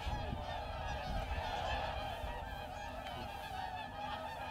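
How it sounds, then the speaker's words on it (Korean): A dense chorus of whooper swans calls continuously, many loud, overlapping honking trumpets blending into a steady clamor with no voices, at a winter feeding time. "큰 고니들이 이렇게 울어대는 이유가 있는데요"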